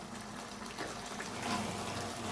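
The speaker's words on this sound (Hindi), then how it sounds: "उतना ही मैं फिर पानी शामिल करूँगी तकरीबन 2 कप" Water is poured into a cooking pot of turnip and spinach curry, about two cups added in a steady, close splashing stream with no talk.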